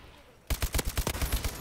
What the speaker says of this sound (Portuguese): errei muitos tiros, errei muitos tiros